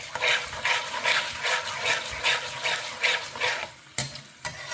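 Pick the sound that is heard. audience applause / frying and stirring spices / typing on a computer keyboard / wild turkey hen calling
frying and stirring spices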